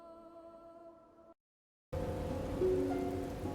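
Rain falls over a Medieval Total War battlefield, a steady broadband hiss that starts abruptly after a tonal music fade and a brief silence, continuing loud and even to the end.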